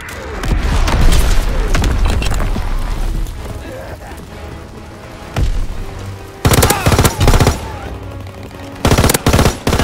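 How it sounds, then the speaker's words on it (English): Mortar blasts and machine-gun fire from the video game Call of Duty WWII rumble loud and dense, then break into sharp, close bursts of gunfire with short gaps, with voices shouting over the battle. "mortar fire incoming! Fall back!"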